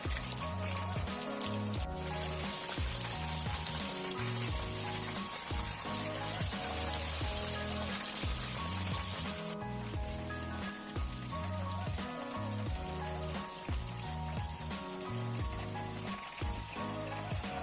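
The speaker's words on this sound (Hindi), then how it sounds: "दरमियानी आंच पर हम इसे जो है फ्राई करेंगे ताकि ये अंदर से अच्छी तरह कुक हो जाए।" Chicken broast frying in oil over medium heat, a steady dense crackle and sizzle that keeps going the whole time with no talk.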